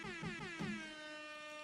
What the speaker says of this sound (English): Air horns for everybody.